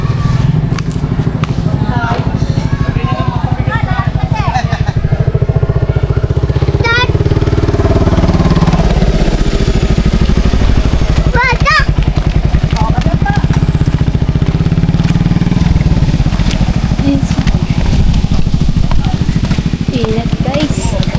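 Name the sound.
motorcycle engine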